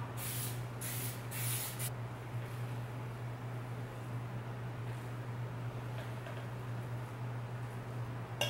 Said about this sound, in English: I'm just going to spritz it with a little bit of nonstick